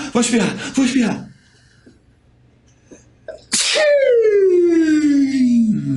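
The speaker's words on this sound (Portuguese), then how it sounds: "Vou espirrar." One loud, close sneeze erupts sharply, preceded by someone speaking and a pause, then followed by a long, bright descending whine or tone.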